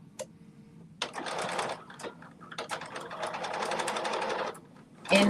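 A sewing machine stitches a belt wallet in several bursts of rapid mechanical whirring and clatter, separated by short pauses, with a final burst starting at the end.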